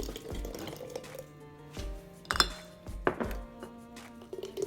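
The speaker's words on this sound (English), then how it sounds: "So what I'm gonna do now is start pouring into the jars." Vinegar base poured into glass jars in a home kitchen for homemade apple cider vinegar: close liquid splashing and trickling with a few clinking knocks of glass, no talking.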